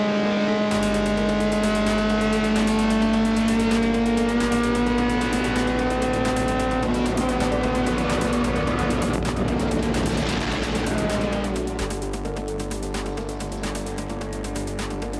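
Race car on track at Lime Rock, loud onboard engine holding high revs through the final corner with gear shifts and a steady roaring drone.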